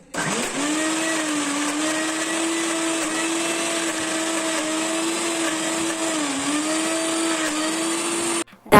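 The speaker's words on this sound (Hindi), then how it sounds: "12 से 15 मैं लहसुन डाल के इसको ग्राइंड कर लूँगी" A mixer grinder grinds chana dal with garlic in a loud, steady, high-pitched whirring drone that holds its tone for about eight seconds before cutting off abruptly, recorded up close with no talk.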